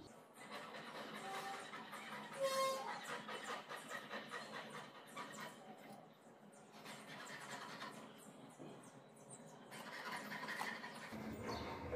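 Neighbours doing work nearby fill the background with a continuous mechanical clatter and rumble, including a brief squeal near the start, heard at moderate loudness throughout with no speech.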